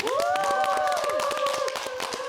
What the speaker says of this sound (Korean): 여러분 박수로 맞아 주십시오.